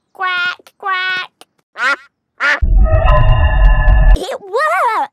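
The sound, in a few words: voice imitating a duck quacking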